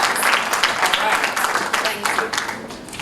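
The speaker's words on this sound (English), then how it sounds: "Let's get our participants this morning a round of applause" Applause from an audience at a primary schools' public speaking competition, a dense wash of many hands clapping steadily and fairly loud throughout, with voices mixed into the crowd noise.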